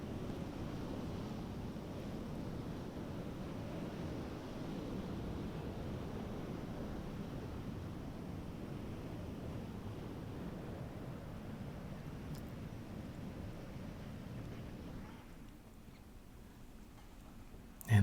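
Whitewater of a class 3 rapid on the Illinois River at about 1100 to 1400 cfs, a steady, full rushing roar of churning water close by that holds level throughout, then drops off and thins out near the end.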